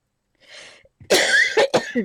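A few sharp, harsh coughs close up, with a brief throat-clearing rasp before them, in a short burst.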